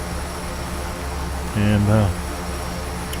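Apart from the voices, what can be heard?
Quest Kodiak airplane engine in video game X-Plane 11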